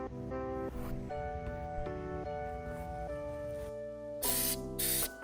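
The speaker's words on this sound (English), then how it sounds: "Okay, then get to spraying." Two short, hissing spray bursts of Fluid Film rust-proofing coating onto a truck near the end, close by, over steady background music.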